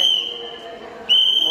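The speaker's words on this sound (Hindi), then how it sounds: "टाइम ओवर होने के कारण यहाँ पे सीटी बज रही है" A sharp, sustained whistle blown at closing time at India Gate sounds loud and near, breaks off briefly, then resumes over a murmur of crowd and traffic.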